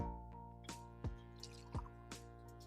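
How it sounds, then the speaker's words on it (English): A drink is poured into a glass, with a few splashy glugs and drips falling over a steady low hum. No one speaks. "And so I'm gonna pour me a glass."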